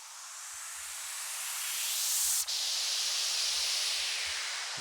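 A trebly white noise sample with the bottom end removed and heavy reverb, from a disco track, swells in a bright hiss, cuts abruptly midway, then returns and slowly fades, with faint low thumps beneath.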